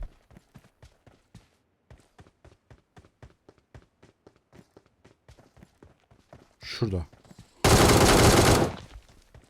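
PUBG Mobile gameplay with a long run of sharp, evenly spaced AK rifle shots, followed by a louder close burst and a dense blast of noise near the end.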